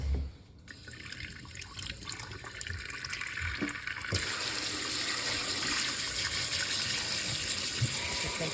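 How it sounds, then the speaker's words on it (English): Tap water runs steadily into a sink while polymer clay palettes are rinsed, the flow strengthening into a fuller, louder gush partway through and continuing without talk. "I'm gonna go rinse these"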